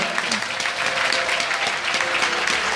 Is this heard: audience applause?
yes